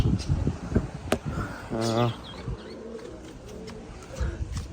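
A pigeon gives a short, low coo amid faint outdoor background noise, with a person speaking around it.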